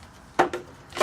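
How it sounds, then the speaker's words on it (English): Plastic gallon bottle being cut around a plant pot, giving three short crisp cutting crunches, close and fairly loud, with quiet pauses between them. "now I'm going to cut around this plant, this pot"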